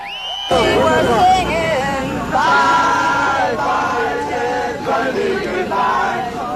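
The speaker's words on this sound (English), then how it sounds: "An unprecedented crowd of hundreds started gathering before dawn." A large crowd of hundreds gathered outside before dawn for Ted Bundy's execution, heard as a loud, continuous hubbub of overlapping voices with shouts and whoops rising above the babble.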